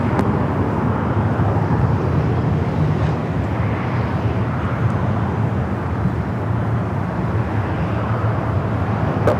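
A jet airliner taking off from runway 24 left at Los Angeles International Airport, a steady loud roar of engines and rumble lasting throughout, with no voices.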